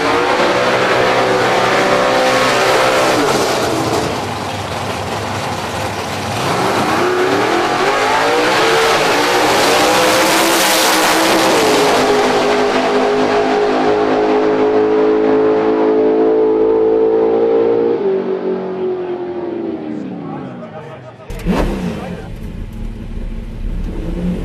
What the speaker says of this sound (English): So she's revving like a little motor, but she's a big one.